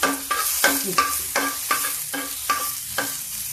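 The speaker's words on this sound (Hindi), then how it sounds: "अब ये गरम हो जाए, ये चिटक जाए" Cumin seeds crackle in hot oil in a pan as a vegetable dish begins, with a steady sizzle broken by sharp, regular stirring scrapes about every half second, close and fairly loud with no voices.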